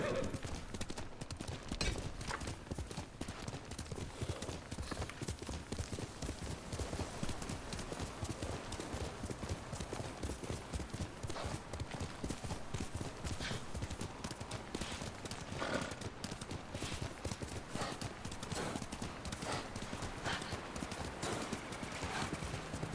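Rapid, steady hoofbeats of a galloping horse in Ghost of Tsushima drum on without pause, close and even in rhythm throughout.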